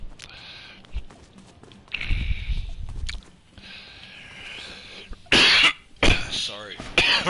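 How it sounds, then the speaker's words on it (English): Several harsh coughs and throat clearings are delivered straight into a close microphone, loud bursts that come in clusters between quieter stretches of muffled background movement. "Right, coughing in the mic."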